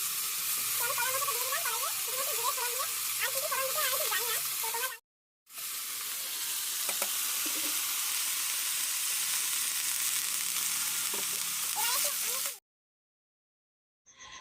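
Chopped banana blossom sizzles loudly in a pan of oil tempered with cumin seeds, a steady frying hiss broken by two short silent cuts.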